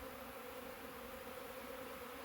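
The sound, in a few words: bees coming and going from a hive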